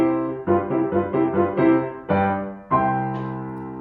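Tonic and dominant chords of a classical-style cadence on a keyboard, a run of quick repeated chords followed by two longer sustained final chords, close and clear with no talking.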